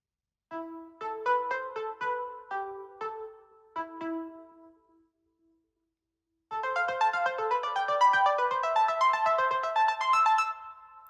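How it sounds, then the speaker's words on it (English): Short synthesized MIDI music phrases generated by a recurrent neural network, bright plucked electronic tones, a sparse tune first, then a pause, then a busier, denser passage of quick notes. "This network was trained on short snippets of MIDI music."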